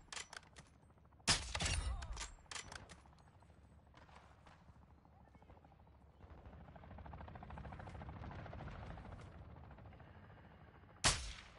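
Gunfire in the video game Call of Duty Modern Warfare II on PS5: a few loud, sharp shots at the start, a rumbling stretch in the middle, and one final sharp blast near the end.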